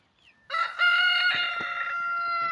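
A rooster crows once, a long, loud, strained call close by, after a faint brief sound at the start.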